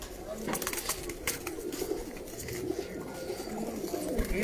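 Rooftop pigeons coo in soft, repeated throaty calls close by, mixed with light wing and shuffling noise, while people talk over them.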